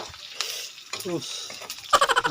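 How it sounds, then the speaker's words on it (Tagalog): Garlic sautéing in hot oil, popping and splattering in short bursts with stirring scrapes, close by, while a voice talks over it. "lagay na natin yung bawang. Gisa lang natin."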